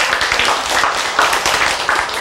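A seated audience clapping at a religious lecture, a dense, fairly loud and continuous patter of many hands with no talk over it.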